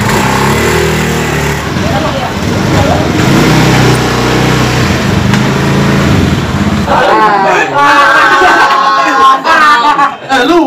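A motorcycle engine revs and rumbles loudly nearby for about seven seconds, then voices take over as people talk and shout over the fading machine noise.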